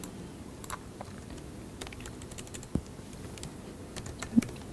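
Light computer keyboard typing, a few scattered soft key clicks with short gaps, near and quiet against a faint room hiss, no talking.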